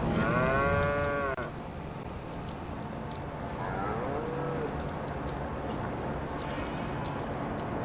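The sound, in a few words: cows mooing in Farming Simulator 25 video game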